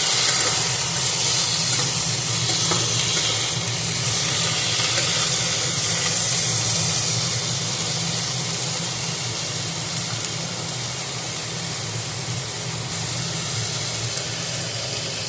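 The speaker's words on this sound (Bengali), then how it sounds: "এরপর দেব আলুগুলো ভেজে নেবো ভালো করে" Potatoes fry in hot oil with cumin seeds, bay leaves and a split dried red chilli, a loud, steady, close sizzling hiss that holds evenly for the whole stretch without pause.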